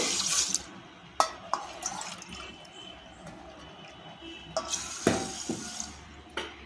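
Water pours into a pot of washed green mung dal, a steady broadband splash with a few sharper knocks of the vessel, close and alone with no talking.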